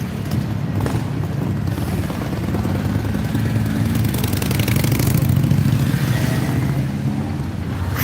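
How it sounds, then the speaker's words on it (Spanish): Motorcycles pass close by along a street in Villaviciosa, Asturias, as a loud continuous engine roar with no talk. "estos vienen en moto"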